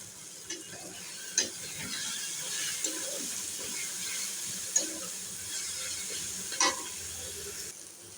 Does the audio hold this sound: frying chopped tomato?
yes